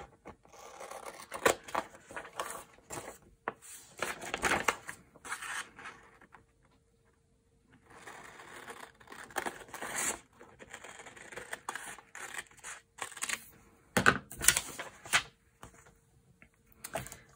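Paper being cut with scissors for a junk journal: close bursts of crisp snipping and scraping, broken by a short silent pause before the cutting starts again, with no voices.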